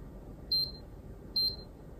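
A SARCTRAC 3D sensor emits two short, identical high beeps about a second apart during calibration, clear against a quiet room.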